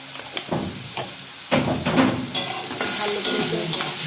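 Pond snails frying in oil with turmeric and salt in a pan, a loud close sizzle broken by repeated scraping stirs that swell the hiss in bursts.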